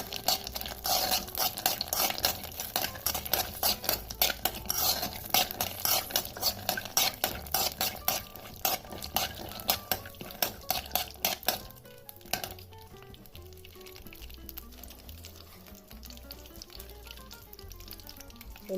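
Peanuts and whole chillies roasting in a pan for radish chutney, stirred steadily with a spatula that scrapes and clatters against the metal, busy and close at first, then easing to quieter rustling and faint sizzle.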